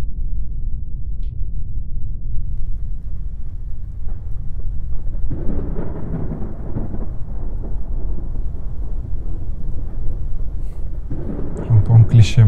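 A thunderstorm with deep rolling thunder and steady rain, a heavy low rumble that swells midway and again near the end, with faint voices underneath.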